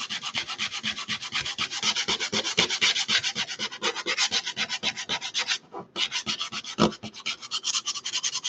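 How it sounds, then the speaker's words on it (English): Hand sanding on a wood panel for mixed media wall art produces rapid, rhythmic rasping strokes, close and fairly loud, with a brief pause near the end and no talking. "Back to sanding."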